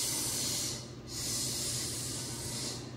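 A voice imitates a long hissing 'sh' sound, breathy and close, pausing briefly once before continuing the steady hiss.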